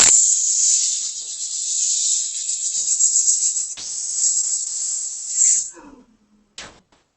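Children imitate a snake, giving a long, loud sibilant hiss that runs for several seconds with a brief break midway, then a short fading tail and one final quick hiss.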